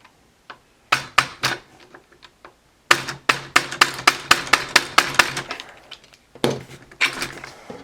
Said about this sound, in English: so you got to kind of hammer it out if you can.